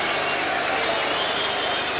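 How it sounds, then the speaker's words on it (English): A crowd at a boxing event claps and cheers in a steady, dense wash of applause, with an announcer's voice partly mixed in. "Let's hear applause, come on"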